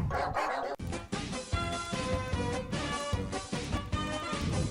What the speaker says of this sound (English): Oh, Gabe the dog.